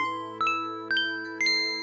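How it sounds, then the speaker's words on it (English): Three bright chime tones ring out in a rising sequence, each a clear bell-like ding that lingers and fades, announcing mealtime in the video game Final Fantasy VIII, heard alone over a steady sustained musical backdrop. "Eventually, a chime plays to announce that it is mealtime."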